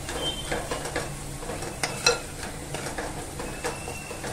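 Onion sautéing with turmeric and Malvani masala in a pan for a clam curry: a soft, steady sizzle with light spatula scrapes and taps, fairly quiet and close, no talking.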